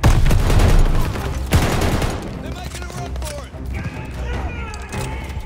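Loud, close automatic gunfire from an unscoped gun in Call of Duty: Vanguard rattles in a dense burst, then quieter distant shots and game noise follow.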